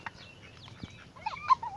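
Short, scattered clucks and squawks from free-range White Leghorn cross-breed chickens, fairly quiet, with a louder call near the end.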